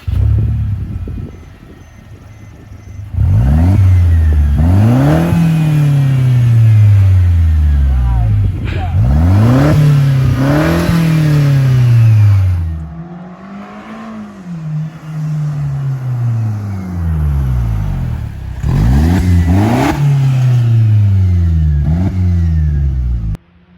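Straight-piped Mercedes C250 with its muffler unhooked revs repeatedly and loudly up close, each rising burst of raspy exhaust settling back to a burbling idle between blips.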